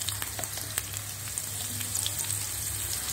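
Chopped onion, ginger and garlic fry in oil with a continuous close crackling sizzle, scattered small pops and faint stirring over a low steady hum.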